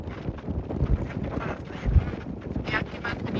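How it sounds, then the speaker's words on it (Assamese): Cold wind blowing on a hillside in Meghalaya, a broadband rushing roar with buffeting gusts against the microphone throughout, a stronger gust near the middle. "ইয়াত মানে ঠাণ্ডা বতাহ মাৰি"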